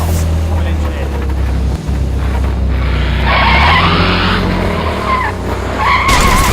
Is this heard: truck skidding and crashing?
yes